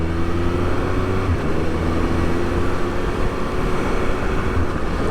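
A 2021 Triumph Speed Triple RS motorcycle pulls away, its engine a loud, continuous roar with a steady low tone and no voices over it.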